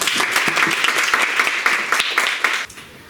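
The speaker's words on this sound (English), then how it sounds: "A great applause for him." An audience at a secondary school public speaking contest claps for a speaker, a dense and lively round of applause lasting about three seconds before tapering off.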